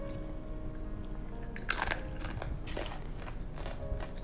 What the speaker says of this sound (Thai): เดี๋ยวชิมให้ดูนะฮะว่าเสียงกรอบมากแค่ไหน